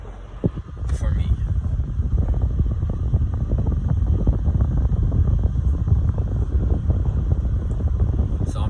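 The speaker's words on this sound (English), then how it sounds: "So I'm driving right now." Inside a moving car, a steady low road rumble mixes with wind noise, continuous and fairly close throughout, with a voice talking over it at times.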